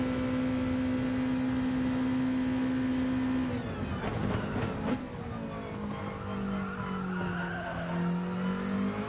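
In GT Sport, a race car cruises an out lap at Saint Croix, its engine holding a steady drone before the pitch drops; a short burst of tire squeal cuts in midway, then the engine settles back to a lower hum.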